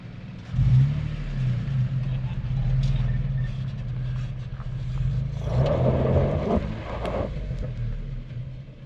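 An SUV engine revs and strains while driving off-road in two-wheel drive with the rear locker in question, a steady mid-pitched drone that rises and falls, with faint voices underneath.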